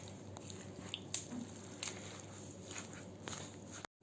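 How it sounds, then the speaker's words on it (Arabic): Iraqi dolma stuffing, with tomato paste added, is mixed by hand in a bowl, giving faint, soft squelching and squishing with occasional light clicks, quiet and close. "هسه نخلط كل المواد سوا بهالشكل هذا"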